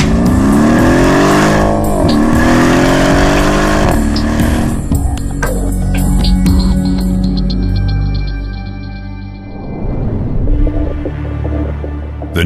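Mercedes-AMG 5.5-litre V8 Biturbo engine revving loudly and continuously, rising and falling through the rpm range, with a sharper burst near the end.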